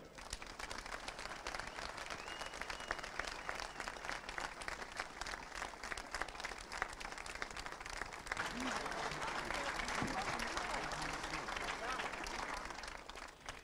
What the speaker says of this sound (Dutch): Daarom vraag ik u allen om een ovationeel applaus.